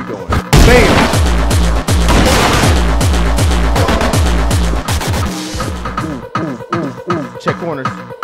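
Rapid bursts of video game gunfire crack loudly and repeatedly alongside booming impacts, dense at first and thinning into scattered shots, with game effects layered in.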